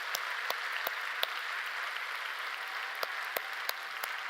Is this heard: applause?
yes